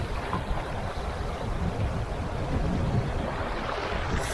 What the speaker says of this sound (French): il y a du vent, un peu de pluie dans l'orage